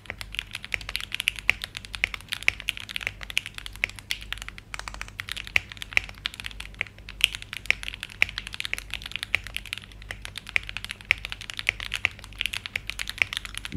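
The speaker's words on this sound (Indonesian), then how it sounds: "switch optical spring 35 gram di loop pakai super loop." Steady typing on a keyboard with lubed 35 gram optical switches, a brisk run of close, crisp clicks and clacks at an even pace with no talking.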